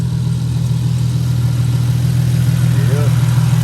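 A Nissan 350Z with an HR engine swap and a resonator fitted runs at a steady idle, giving a smooth, even low drone close by with no raspiness.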